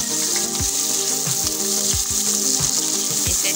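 Cumin seeds sizzling in hot oil with onions for biryani, a steady loud frying hiss with rhythmic clicking stirs or scrapes repeating roughly every half second.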